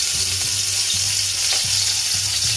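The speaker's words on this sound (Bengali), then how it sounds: "সর্ষের তেলটা দিয়ে দিলাম এবার এই ইলিশ মাছগুলো ইলিশ মাছ গুলো ভালো করে ছেড়ে দিচ্ছি" Hilsa fish pieces fry loudly in hot mustard oil, a dense, continuous sizzle close by, with a few faint knocks from pieces being added or moved.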